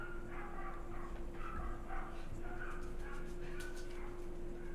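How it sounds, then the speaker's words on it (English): A dog barks and whimpers outside at a distance, muffled, over a steady low hum with no talking. "Is there barking?"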